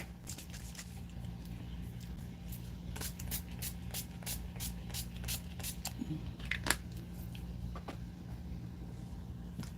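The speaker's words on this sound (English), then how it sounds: "For setting spray, I'm going to use the NYX Matte Finish Setting Spray." Several short hissing sprays of NYX Matte Finish Setting Spray burst out one after another over a steady low hum, close and fairly loud, with a brief pause partway through.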